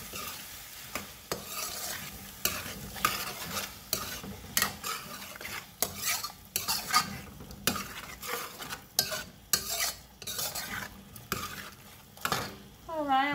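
Haitian spaghetti being stirred in a pan, with a utensil scraping and clinking against the metal in repeated strokes over a light sizzle, close and fairly loud, no talking.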